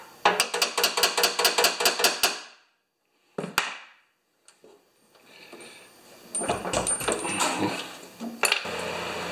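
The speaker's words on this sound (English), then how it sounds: "I'd rather hammer that." Repeated hammering on a bolt while working on an Ariens 2+2 snowblower: about ten quick, loud metallic strikes in a steady rhythm, then a single blow, scattered clatter and ongoing handling noise of parts.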